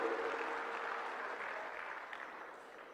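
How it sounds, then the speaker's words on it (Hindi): Applause from the audience at a government rain-water conservation event greets C.R. Patil, a continuous crowd clapping that stays moderate and gradually softens over a few seconds. "जोरदार तालियां बजा करके सीआर पाटिल जी का"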